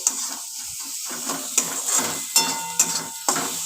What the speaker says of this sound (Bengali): সামান্য একটু জল দিয়ে কষাই, তাহলে মশলাটা নিচে লেগে ধরবে না।